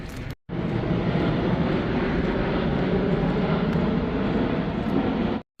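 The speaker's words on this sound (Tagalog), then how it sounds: "Ang daming mga eroplano dito," A loud, steady broadband roar from an airplane flying low overhead near a kindergarten, holding continuously for several seconds before cutting off abruptly.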